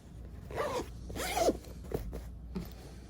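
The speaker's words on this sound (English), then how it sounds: "when you zipper it closed" A zipper is pulled closed on a small bag sewn from a placemat, giving several quick raspy zipping strokes, close and fairly quiet, with no voices.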